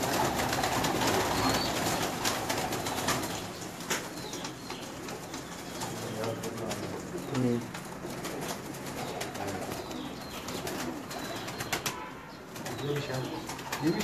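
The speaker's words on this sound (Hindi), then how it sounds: "ये देखें जी आपके घर के कबूतर" Pigeons coo in soft, repeated low calls amid a busy outdoor background, with occasional wing flutters and faint chatter nearby.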